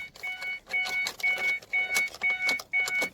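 Ignition of a 2005 Mazda Tribute with the key turned, a repeating electronic warning chime pulsing six times in steady rhythm, close and clear, with light clicks and jingling between tones and no speech.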